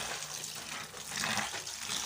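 Tap water runs steadily into a kitchen sink while peas are being washed, a soft continuous splashing and gushing that swells slightly partway through, with no voices over it.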